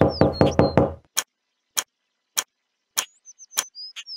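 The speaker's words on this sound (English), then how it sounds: "if you don't press, there's a clock ticking and then she'll move on" A ticking clock in the Ballyland key game for children, heard as evenly spaced sharp ticks about every half second, following a short tonal jingle, with light chirping tones near the end.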